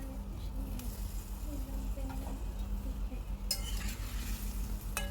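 Fried potatoes tossed into masala for dum aloo, with a low steady sizzle in the pan and soft scraping stirs throughout, a few sharper clatters near the end.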